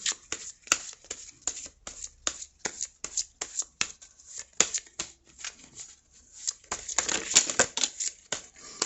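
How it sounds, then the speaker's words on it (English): Tarot cards are shuffled by hand in quick repeated riffles and snaps. The crisp, close papery bursts run in an uneven rhythm throughout, with no voices over them. "Now I'm shuffling the cards"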